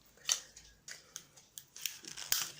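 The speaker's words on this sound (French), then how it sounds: "On met du scotch pour le tenir" Short crisp ripping and crinkling bursts as adhesive tape is torn and applied, several quick tears in a row, close and fairly quiet, with no voices.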